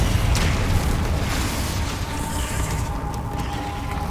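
The Confringo explosive spell in Hogwarts Legacy lands with a heavy, sustained blast of rumbling noise that stays loud and dense for a few seconds before easing slightly.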